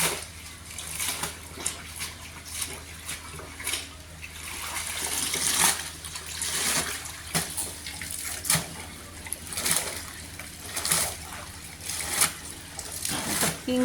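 A saree is worked in a vat of hot water with pink dye, making repeated sloshing splashes and trickles in an irregular rhythm, close and moderately loud, with no clear speech.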